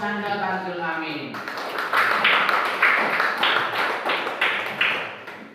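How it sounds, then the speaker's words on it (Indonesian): A classroom audience at an Indonesian religious education lesson breaks into applause after a brief spoken line, with loud, rhythmic clapping bursts repeating close by until the end. "Oke, berikan tepuk tangan yang meriah untuk Nanda Tanzil Amin."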